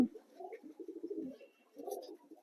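Pigeons coo in a bamboo cage on a commercial high-flyer pigeon farm, with two bursts of soft, low, rolling coos separated by a short pause and no talking.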